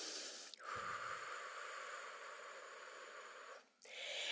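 During a yoga stretch, one long, slow, airy breath is drawn in close to the microphone and held steady for about three seconds before a brief pause and another breath begins. No one speaks.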